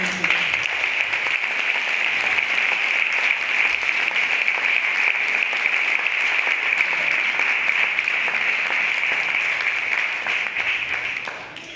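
A concert audience at a charity cancer benefit gives Laia a long, steady round of applause, dense and sustained clapping from a large crowd filling the room evenly throughout.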